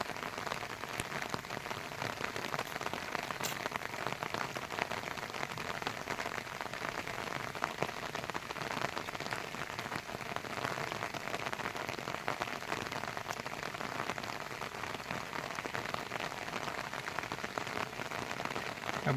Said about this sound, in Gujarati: જાણે જો ધીરે ધીરે ચાલુ છે વરસાદ